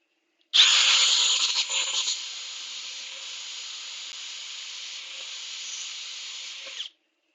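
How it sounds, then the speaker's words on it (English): A handheld power drill spins up with a loud, bright whine, briefly straining before settling into a steady continuous drone for about six seconds, then cuts off abruptly. "So that was a drill."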